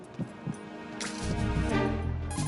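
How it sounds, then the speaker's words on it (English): A thumping heartbeat in the Metal Gear Solid 2 video game, two soft pulses at first, then a louder low throbbing hum that builds and holds. "That heart beating."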